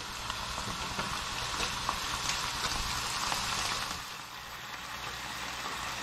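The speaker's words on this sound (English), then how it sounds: "So let that cook in its own juices for a little bit." Chicken sizzling and frying in its own juices in a pan, a steady, close crackling hiss that softens slightly near the end, with no talk.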